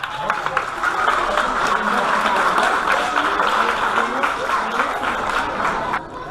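Audience applause after a group's scored lightsaber fencing performance, a dense, sustained crowd clapping at fairly high volume, easing slightly at the end.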